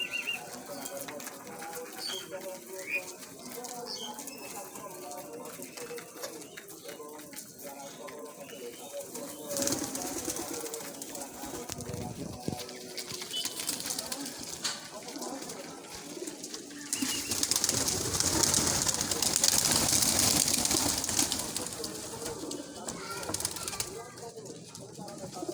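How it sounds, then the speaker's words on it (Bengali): Pet pigeons, including Sirazi, wild and Giribaz breeds, coo softly in a pigeon house, with bursts of wing flapping and a stretch of louder fluttering, while a person talks over them. "এই সিরাজি কবুতর আছে, বুনো কবুতর আছে, এই যে গিরিবাজ আছে, সব সুন্দর সুন্দর কবুতর।"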